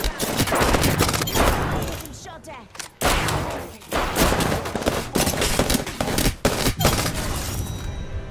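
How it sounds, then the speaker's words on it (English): Rapid bursts of gunfire in the Apex Legends video game, loud repeated shots and clattering impacts in dense clusters with brief pauses, mixed with game effects and some voice chatter. "Getting shot at."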